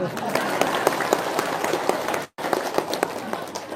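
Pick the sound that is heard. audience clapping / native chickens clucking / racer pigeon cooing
audience clapping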